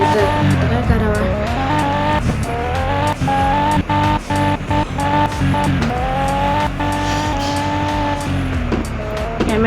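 A car drifts in the video game Car Parking Multiplayer, its engine droning loudly and steadily with shifting pitch, broken by repeated sharp clicks and bursts, and game music or effects layered over it.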